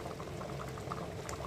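Water poured into a pot of Chennai-style country chicken biryani, a brief soft bubbling and splashing pour heard faintly and close, with no voices.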